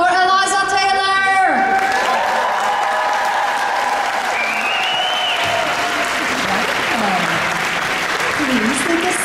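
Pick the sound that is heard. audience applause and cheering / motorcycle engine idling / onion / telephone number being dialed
audience applause and cheering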